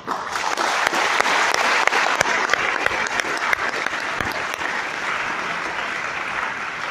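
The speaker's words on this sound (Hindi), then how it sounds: "अपने लिए ताली बजाओ एक बार।" A lecture audience claps together, loud and close, a thick wash of many hands with sharp individual claps standing out, holding steady for several seconds before easing slightly near the end.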